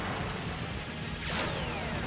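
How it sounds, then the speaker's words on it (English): Cannon fire striking the player on a ship in Sonic Adventure, a loud crashing impact within a continuous dense wash of game noise. "I didn't realize that the cannon's shooting me"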